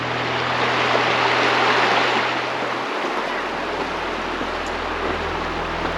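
A river flows beside a sandy trail in the Narrows of Zion National Park, between tall canyon walls. The water makes a steady, full rushing wash that swells slightly and then settles, with no voices.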